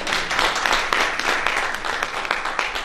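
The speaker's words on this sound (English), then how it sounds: "You can clap your hands in the church." People clapping hands during a church service, a sustained patter of many claps with a loose rhythmic pulse, fairly close and lively with faint voices mixed in.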